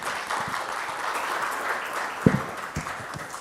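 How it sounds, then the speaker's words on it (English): Steady applause from an audience at a panel discussion on programmatic advertising, a continuous patter of many hands with a few sharper individual claps standing out near the end. "A round of applause for such an incredible panel,"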